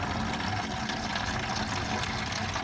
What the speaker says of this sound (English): I'm going to drain what's in the radiator first.